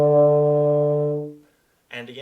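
A single held D on a euphonium during a beginner warm-up, rich and steady for over a second before tapering off, followed by a short burst of someone talking.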